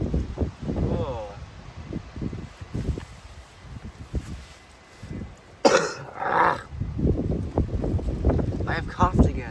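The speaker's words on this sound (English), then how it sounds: "I have coughed again." A person coughs and clears their throat close by while repotting pines and a willow outdoors, amid background noise and wind gusts buffeting the microphone.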